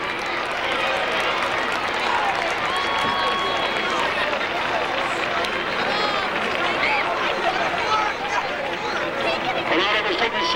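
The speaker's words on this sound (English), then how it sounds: "Let's have an extra round of applause for Maureen Flynn." Crowd applause for an honoree at a high school football gathering, a dense sustained roar of clapping mixed with cheering and murmured chatter, loud and continuous throughout.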